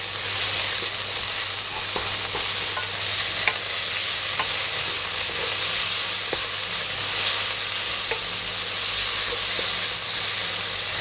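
Minced pork sizzles loudly in a hot pan for stir-fried Chinese cabbage with tofu, a dense continuous hiss dotted with light spatula taps, close and without talk.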